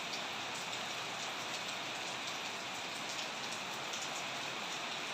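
Steady, dense hiss of rain falling without pause, even and close, with no voices.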